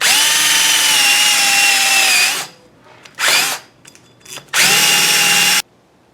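A power drill whines loudly in two long bursts while cleaning the face of a vehicle axle during a drum-to-disc brake conversion, with short scraping and rubbing sounds between the runs.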